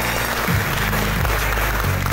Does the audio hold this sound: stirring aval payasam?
no